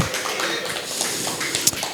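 Brief applause from a small group, a run of light scattered claps under steady talk by a commentator.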